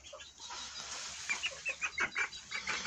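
A young black Cochin bantam hen clucks in a quick series of short, sharp notes, close by, with faint background noise and no talk.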